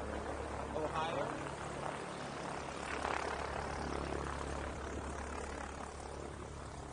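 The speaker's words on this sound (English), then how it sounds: "172 up there. Getting ready to take off." A Cessna 172 light aircraft engine drones steadily at a country airport in Clinton County, Ohio, a moderate, fairly distant hum with a person talking over it.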